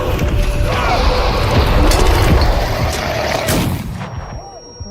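Gunfire in a horror video game forms a dense, loud, continuous barrage of shots and crashing booms that drops away abruptly near the end.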